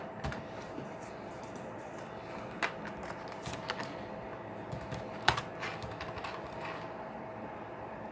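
Keys clatter softly on a computer keyboard as a budget line is typed, quiet irregular bursts of clicking with a few sharper taps over faint room hiss.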